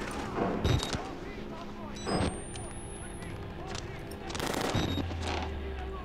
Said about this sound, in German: Ich höre irgendwo Schüsse.